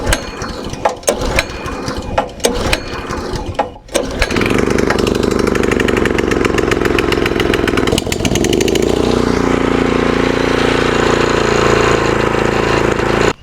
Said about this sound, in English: The throttle on it, or I guess the engine rev sounds a little rough